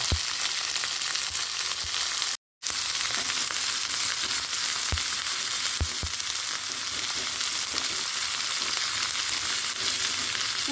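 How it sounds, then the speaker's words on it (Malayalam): Steady sizzling of onions frying until browned in a pan, a continuous crackly hiss with occasional soft clinks of stirring and one brief dropout. "കുറച്ചൊരു ബ്രൗൺ കളറായിക്കോട്ടെ കേട്ടോ നന്നായിട്ടൊന്ന് വറുത്തെടുക്കണം"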